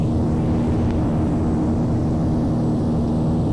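Dornier Do 228 turboprop engines in the FSX flight simulator roar steadily at high power as the thrust reversers run after landing, a loud, constant, droning rumble with a tonal hum throughout.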